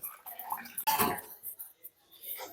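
Spoon stirring a pot of rustic Maharashtrian chakvat greens gargati bhaji, giving a short clattering scrape of metal against the pot amid softer sporadic kitchen sounds.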